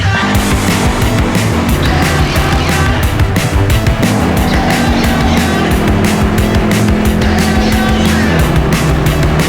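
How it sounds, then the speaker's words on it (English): Car engines roar loudly in a dramatic chase among desert dunes, a dense continuous din of revving motors with pulsing bursts and shifting pitch. "Dramatic car chase."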